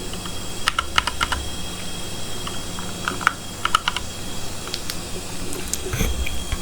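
Close, steady keyboard typing as a one-time passcode is entered manually on a computer during a bot login setup, with irregular clicks and a few sharper key strikes over faint room noise.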